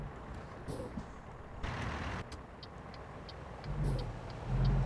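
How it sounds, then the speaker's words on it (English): A pickup truck driving along a road, its broadband engine and road rumble steady throughout, with a couple of short hissing bursts and a heavier low surge near the end; no one speaks. "This is my first time driving with my truck."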